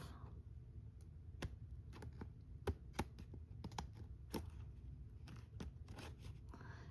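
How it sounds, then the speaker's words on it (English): Sharp-bladed scissors trim thick paper for journal crafting, giving a quiet, irregular series of crisp snips and crunches, close and alone in a hushed room. "These scissors make this paper feel like it's so thick because they have such really sharp blades."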